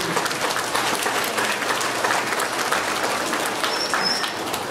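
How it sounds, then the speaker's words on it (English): Audience applause at a school results presentation in Trinidad and Tobago, steady broadband clapping filling the whole stretch, with a faint bird call briefly audible near the end. "Give them a round of applause."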